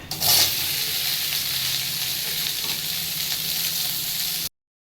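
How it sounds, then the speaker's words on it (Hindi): Soybean chunks fry in oil in a kadai with a steady, close sizzle and brief stirring, a louder burst near the start and no talking. "तो से कड़ई में सोयाबीन टाक भाजीदे"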